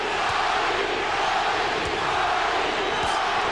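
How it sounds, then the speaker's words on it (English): A large boxing-arena crowd chants and roars for fighter Johnny Tapia in a bout against Danny Romero, a dense, steady wall of voices throughout. "Crowd chanting, Johnny"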